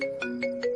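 A mobile phone ringtone plays a short melodic electronic tune, three evenly spaced pulsing notes over a sustained tone, clear and close.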